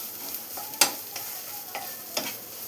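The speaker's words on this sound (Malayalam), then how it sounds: "ഇപ്പോൾ തേങ്ങയും ഇതിൽ നന്നായിട്ട് മിക്സ് ചെയ്തെടുത്തിട്ടുണ്ട്." Horse gram stir-fry with grated coconut is stirred in a pan, giving a few soft, spaced scrapes and taps of a spoon against the metal over a faint sizzle. No one talks.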